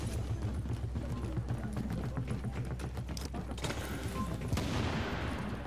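Video game gunfire in a skirmish: steady rapid rattling shots under constant background noise, continuous and moderately loud with a heavier burst near the end.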